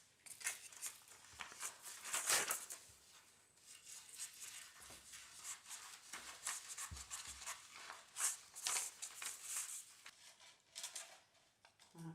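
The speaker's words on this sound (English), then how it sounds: "The next thing I'm going to do is I'm going to cut this out." Scissors cutting out a paper dinosaur shape, heard as faint, close snipping and rustling paper with soft crinkles in an uneven rhythm.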